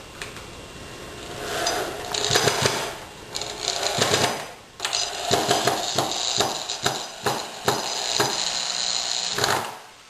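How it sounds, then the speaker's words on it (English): A drill driving screws into wooden formwork, heard as repeated bursts of whirring motor at slow speed with short pauses in between, close and fairly loud. "I recommend you just keep the drill going slow and apply steady pressure."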